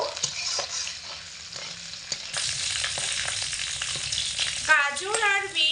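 Chopped carrots and beans stir-frying in oil for a potato curry, a bright continuous sizzle with frequent scraping stirs and a few utensil clinks near the end, close and unbroken by speech.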